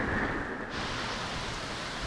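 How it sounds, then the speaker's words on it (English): Heavy rain from Hurricane Laura pours down in sheets in Louisiana, a dense, steady roar of falling water that fills the whole moment without a break. "The rain is coming down in sheets"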